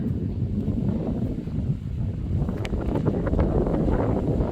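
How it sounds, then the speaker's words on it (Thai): Cool wind blowing by the Mekong riverside near a bridge to Laos in Mukdahan, a steady, loud rushing buffet across the microphone with faint rustling, and no voices heard. "ลมเย็นดี"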